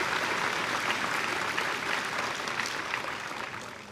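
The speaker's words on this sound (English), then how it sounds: "let's give both of our student speakers a round of applause" Sustained applause from a graduation ceremony audience, dense steady clapping that fills the hall and tapers slightly toward the end, with no voices over it.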